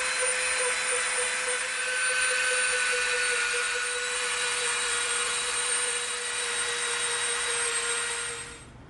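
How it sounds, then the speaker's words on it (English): A Dremel rotary tool bounces across EVA foam to create a hammered steel texture, giving a steady high-pitched whine that runs continuously before fading out at the end. "all we did was bounce the Dremel around on it"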